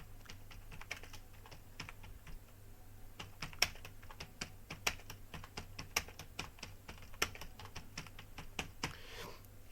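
Someone types a narration on a computer keyboard, a quiet but steady run of close keystrokes with occasional louder taps, and nobody speaks.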